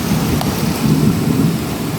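Heavy rain pouring steadily with a deep thunder rumble underneath, loud and close, on a rainy day.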